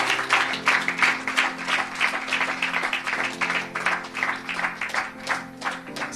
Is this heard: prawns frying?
no